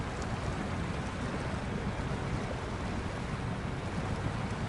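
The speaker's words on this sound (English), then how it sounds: "even that sound of the water is quite good" Water in the SnowRunner video game gives a steady broadband wash like surf or rushing water, even and continuous with no talk.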